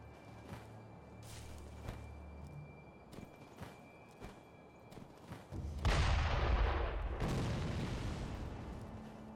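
Sniper shots ring out in Sekiro as scattered sharp cracks, followed by a big, loud booming blast that slowly fades, set against a quiet background with faint movement.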